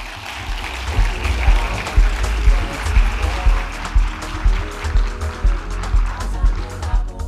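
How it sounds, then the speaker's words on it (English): Conference audience applauding in a large hall, with a steady wash of clapping carrying pulsing swells and a low rumble underneath, sustained throughout. "Keep the applause going until he takes his seat"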